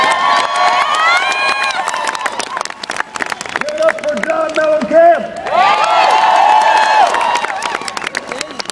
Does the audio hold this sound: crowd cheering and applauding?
yes